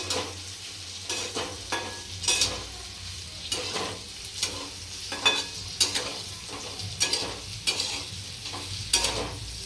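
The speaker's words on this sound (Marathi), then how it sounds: "फुल गॅसवर कांदा भाजायला ठेवला मी" Onion fries in a little oil in a pressure cooker over a full gas flame, a steady soft sizzle broken by repeated scraping stirs of a spatula against the pot, close and fairly quiet.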